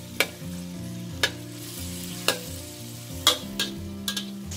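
Beans stir-fry in a hot pan, giving a steady sizzle with a few sharp scrapes and knocks from the utensil, close and with no voices.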